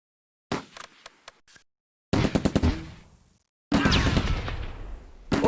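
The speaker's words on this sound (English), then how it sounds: "They're trying to mortar the 88." Mortar fire on an 88 gun in the war game Close Combat, heard as a few sharp ticking shots followed by two heavy blasts, each with a long rumbling decay, loud and close, no voices.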